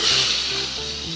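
Bay leaves and chopped garlic sizzling in hot oil, a brief, close, bright hiss of frying that holds steady for the moment.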